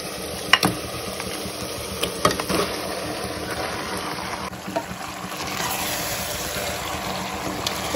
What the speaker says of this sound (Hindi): अब मैं डाल दूंगी इसमें मैरिनेटेड मटन।